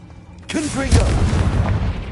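A Confringo spell blast in a wizard video game lands as a sudden booming burst. A deep rumble trails off over about a second and a half, right after a short spoken word.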